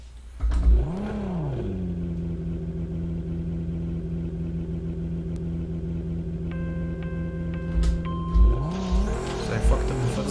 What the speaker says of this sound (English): let's do one where we shift just before we hit the rev limiter